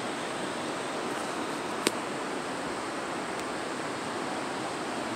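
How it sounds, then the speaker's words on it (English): Steady broadband rush of river water flowing near a bridge and falls, continuous and fairly loud, with a brief sharp click partway through. "Where that water is waving right there."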